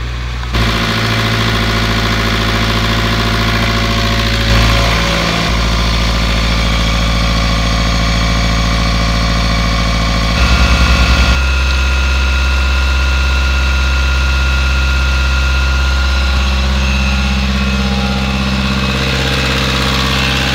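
A boat engine at working temperature, logged at 3740 hours, runs steadily and loud, stepping up to a higher speed partway through and holding a constant droning idle-to-raised rev with vibration and no voices.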